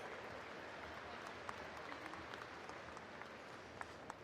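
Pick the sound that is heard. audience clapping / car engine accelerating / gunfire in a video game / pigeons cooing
audience clapping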